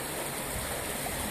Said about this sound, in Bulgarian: Вижда се, че тече вода.